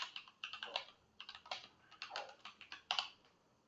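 Typing on a computer keyboard, with quiet, close clicking keystrokes in an uneven rhythm that come in small clusters, with no talk.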